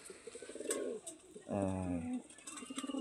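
A domestic pigeon coos nearby in a short rolling burst midway, set among softer bird sounds and light background noise on a pigeon-keeper's roof.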